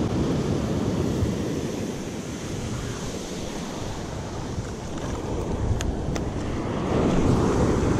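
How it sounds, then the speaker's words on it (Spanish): Ocean surf breaks on a beach during surf fishing for jack, a continuous rumbling wash of waves with wind buffeting the microphone, swelling louder near the end, no voices. "El oleaje sobre todo, no le quiero hacer mucha confianza."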